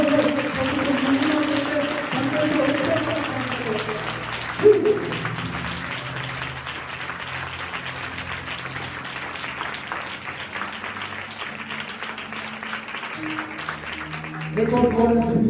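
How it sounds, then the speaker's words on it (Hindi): A crowd at a church service in Raipur, Chhattisgarh, applauds in a sustained, even roar of clapping, with a preacher's voice speaking over it at the start and again at the end. "जितना जोर से आप ताली बजाएंगे"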